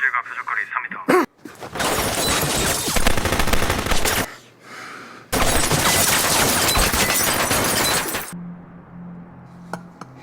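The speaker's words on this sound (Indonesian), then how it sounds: "Tim sniper bersiap menembak dari seberang gedung." A sniper team's gunfire in a film scene comes as long, dense bursts of loud rapid shots mixed with glass clinking and shattering, separated by brief quieter moments with voices.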